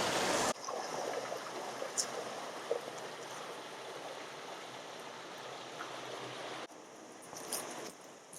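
Water rushing along a stream at the bottom of the Trévans gorge, a steady broadband wash that carries on throughout, fairly close and moderately loud, with a short cut in the sound near the start and no talking.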